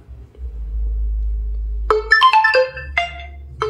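Ringtone melody from an Oppo A77s smartphone speaker, a bright sequence of clear tonal notes that starts after a low hum and rings out loudly on its own.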